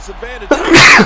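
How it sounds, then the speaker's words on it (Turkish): A single loud, close sneeze bursts out after a brief soft vocal sound, from a man voicing a WWE 2K15 gameplay session. "Hapşır hocam."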